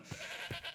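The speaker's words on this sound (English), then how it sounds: "A goat?" In a party scene of a video game a goat bleats twice, short nasal calls close and clear with no talk over them.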